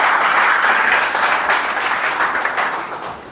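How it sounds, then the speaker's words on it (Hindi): A live motivational talk audience breaks into loud, dense applause that sustains evenly and tapers slightly near the end, with many hands clapping at once. "जोरदार तालियां"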